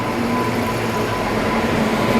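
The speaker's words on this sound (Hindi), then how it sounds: "ये आ गई अपनी train number 12124 Deccan queen express." Deccan Queen Express, train number 12124, hauled by a WAP-7 electric locomotive, rolling into an Indian Railways station with a loud, continuous rumble of wheels and carriages, close by and without voices.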